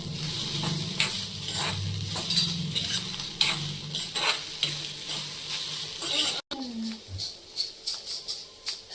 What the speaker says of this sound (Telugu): కొంచెం కారం, కొంచెం పసుపు వేసి కలిపేద్దాం.